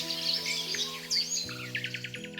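Birdsong in sunny woods and meadows: bright, repeated chirps and twittering trills sit close over a soft, sustained musical backing.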